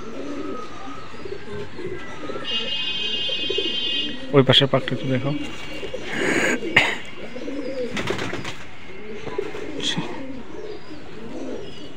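A male Benares pigeon, a red-necked azan-breed cock of the old Khulna line, keeps up low rolling coos close by while someone talks over it, with a few sharper handling noises in between.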